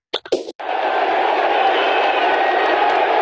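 Crowd cheering a race, a steady loud roar that starts abruptly after a few brief thumps and carries on without a break.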